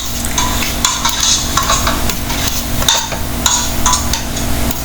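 Chopped tomatoes, beans and carrots stirred in a pan, a spoon scraping and clinking against the metal in an irregular rhythm over a constant frying sizzle, close.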